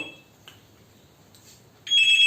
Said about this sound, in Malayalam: ഫോൺ ഫോൺ ഫോൺ അടിക്കുന്നു